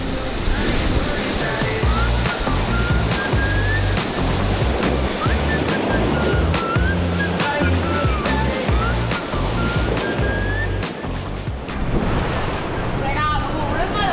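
Ocean surf breaks and rolls continuously at Uluwatu in Bali, a broad, steady wash with gusts of wind on the microphone, heard under intermittent voices.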